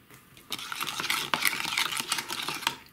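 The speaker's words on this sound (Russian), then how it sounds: "Тщательно размешиваем его в воде." A fishing bait mixture of fruit jelly flavouring and sea salt being stirred in water, with steady swishing and clinking strokes close by, no talking.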